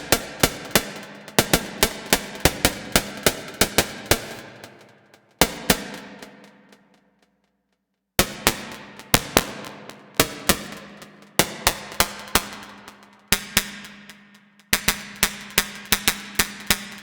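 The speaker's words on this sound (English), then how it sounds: "you can get some sort of interesting percussion sounds this way." A Behringer Kobol Expander synthesizer plays short, sharp percussive hits with a tight envelope, arranged in quick rhythmic bursts separated by brief silences, each hit snapping in and decaying fast, with no voices.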